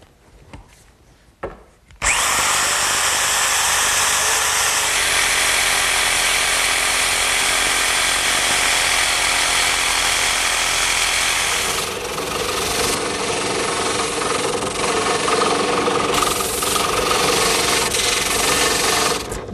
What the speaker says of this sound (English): I'm just going to trace the outline, and then I'll cut it out using my handheld jigsaw.